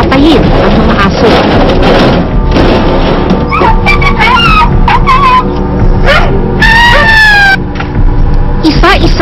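Dogs held at an animal pound bark, yelp and whimper in short, irregular bursts, loud and close, with thumps and a narrating voice talking over them.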